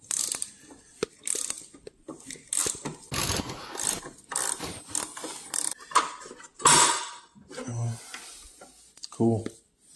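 Ratchet and Allen-key work loosening a bolt on a Honda CBR1000RR brake caliper, with short mechanical clicks and metallic clatter through the clip and a person talking intermittently nearby.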